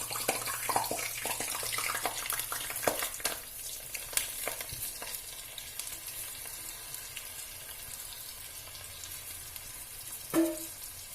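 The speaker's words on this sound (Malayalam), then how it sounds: "അത് നമ്മൾ ഈ എണ്ണ പൊരിച്ച ഓയിലിലേക്ക് തന്നെ ഇടാം" Three glasses of washed, drained rice go into hot oil for chicken dum biryani, giving a steady sizzling crackle with stirring clatter that eases off toward the end, capped by a brief clink.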